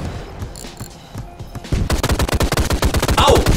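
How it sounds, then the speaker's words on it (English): Rapid gunfire in the VR video game Out of Ammo, scattered shots at first, then a loud, fast sustained burst of closely spaced reports with heavy booms of an artillery strike. "Eat an artillery strike!"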